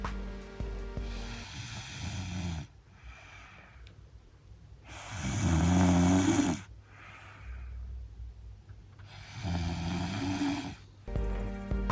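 A sleeping person snores in three long, loud, rough inhale snores, with quieter wheezy breaths between them, close to the listener and with no talking.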